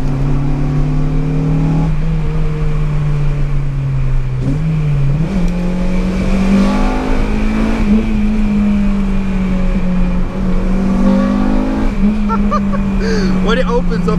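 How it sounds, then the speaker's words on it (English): A Honda Civic Type R VTEC engine hums steadily and rises in pitch as it revs, with a low droning note throughout and some road noise. "we will go for a last drive in this VTEC beast"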